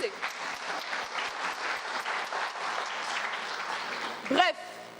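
Audience clapping at a French trial-themed stage event, a dense steady applause running throughout at moderate loudness, with a brief voice breaking through near the end.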